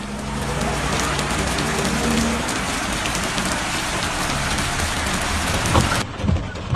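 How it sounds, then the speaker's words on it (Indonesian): Heavy, steady rain pours down during tidal flooding in Pontianak and Kubu Raya, a dense continuous roar that stays loud throughout before easing slightly near the end. "hujan tak kunjung reda"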